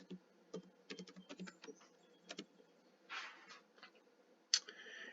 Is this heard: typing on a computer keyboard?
yes